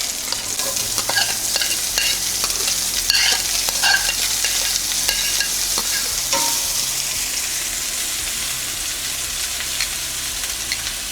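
Cabbage rolls and onion frying in a pan: loud, continuous sizzling with scraping stir strokes and crackles, heard alone close up.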